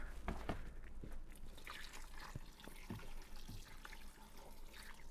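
About four cups of warm water pour and splash into a pot in an uneven stream, with a few light clinks and knocks of metal.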